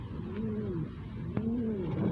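Racing pigeons back from a 225 km derby race coo softly in two rolling, throaty phrases, close by and fairly quiet.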